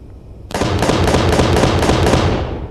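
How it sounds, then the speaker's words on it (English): Rapid burst of auto cannon fire in the video game Space Engineers, a steady stream of loud, close, evenly spaced shots that starts abruptly and runs unbroken for a couple of seconds. "I'll move on to the auto cannons,"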